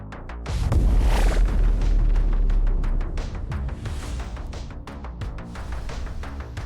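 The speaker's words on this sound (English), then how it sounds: "Look at all them explosions" Booming explosions fill the arcade survival game Fireball 2, opening with a heavy low blast and rumble, followed by a dense, continuous run of sharp pops and bursts over game music.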